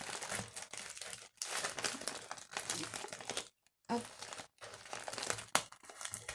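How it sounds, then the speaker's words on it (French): Close, steady crinkling and rustling of taped paper being cut with scissors, with brief pauses, and a short spoken word near the middle. "je vais aller avec le ciseau"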